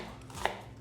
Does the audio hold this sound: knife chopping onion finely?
yes